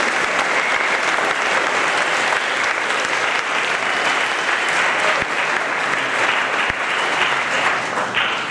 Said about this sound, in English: Let's give Kevin Suddatol a round of applause.